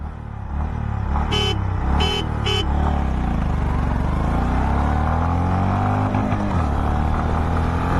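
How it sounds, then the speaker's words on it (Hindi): Three short, sharp horn beeps sound close by over a loud, steady Honda CB350 engine in first gear that keeps running and shifts pitch afterward. "शुरू करेंगे 3 हॉर्न के साथ।"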